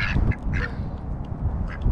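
A few ducks give short, scattered quacks nearby over a dense low rumble of outdoor background noise.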